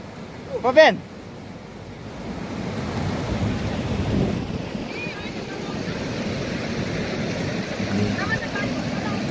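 Wind gusts blowing steadily outdoors in a Nepali village as light rain starts, a broad continuous rushing wash with a brief louder burst near the start.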